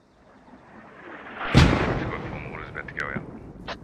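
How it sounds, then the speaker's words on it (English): A mortar round in the Squad video game lands with a heavy, booming blast, followed by a long rolling rumble that slowly fades, with faint scattered sounds behind it. "Just the one mortar round at a time. Insurgents being very stingy with this mortar."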